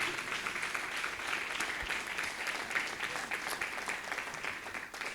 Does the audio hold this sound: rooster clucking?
no